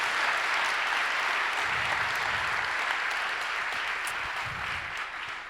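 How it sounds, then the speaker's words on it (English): Sustained audience applause fills a hall after an opening speech by the President of Estonia, a dense steady clatter of many hands continuing throughout and tapering slightly at the end. "if you would join me in applause for Estonian tech companies working abroad"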